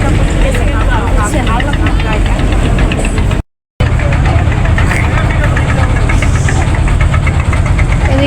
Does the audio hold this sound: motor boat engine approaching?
yes